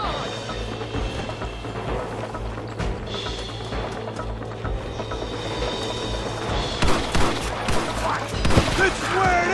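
Gunfire from the Western video game Red Dead Redemption, a busy fusillade of shots over a constant low hum and game noise, with sharper, louder bursts clustering toward the end.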